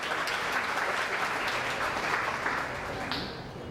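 Sustained audience applause at a conference, steady and dense across the whole stretch, tapering slightly near the end.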